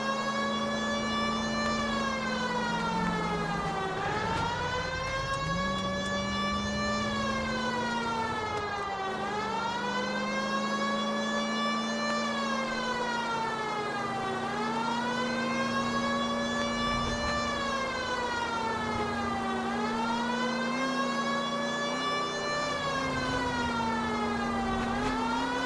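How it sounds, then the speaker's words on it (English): A video game siren in LA Noire wails, rising and falling in slow, repeating sweeps, loud and continuous, over a steady low engine drone. "Y'all hear the siren?"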